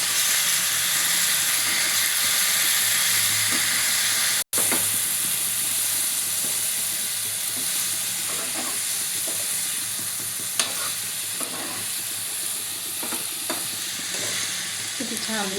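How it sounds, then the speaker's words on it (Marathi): Potato pieces sizzle and fry steadily in a pan with turmeric, while a spoon stirs and scrapes through them, making intermittent clinks and scraping over a continuous hiss. "आता हे बटाट्याच्या फोडी टाक"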